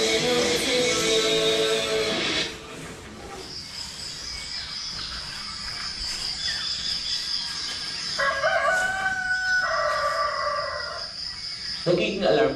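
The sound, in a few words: rooster crowing in the morning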